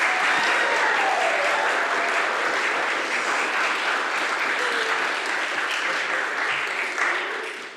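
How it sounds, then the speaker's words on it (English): An audience at a senior thesis recital on the voice as a microtonal instrument applauds in a dense, even wash of clapping that stays loud, then fades slightly toward the end. "Can we just get another round of applause for people who learned that?"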